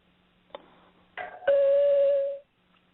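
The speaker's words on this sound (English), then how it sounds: "not sure who is ringing the bell this early" A doorbell chimes: after a couple of soft knocks or clicks, a two-part electronic ding-dong rings out, the second tone held for about a second before cutting off, clear and alone in a quiet room.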